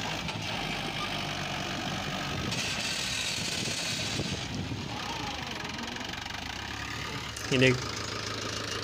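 A tractor engine runs steadily while its tyres sink into loose, soft soil at a dig site, with a rough mid-range drone throughout; a brief louder clank comes near the end, and a voice speaks briefly over it.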